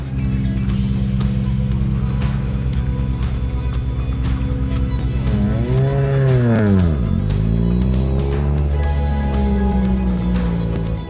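A rally car at full attack on a forest stage at the Builth Wells Rally, its engine revving hard through gear changes, dropping sharply on a lift then climbing again, loud and close the whole way.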